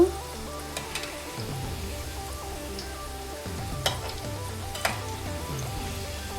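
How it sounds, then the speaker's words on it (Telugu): Small potatoes frying in hot oil, a continuous close crackling sizzle with a few brief clicks and pops standing out above it, no voices. "చూడండి మంచిగా ఫ్రై అవుతున్నాయి, భలే వస్తున్నాయి కదా"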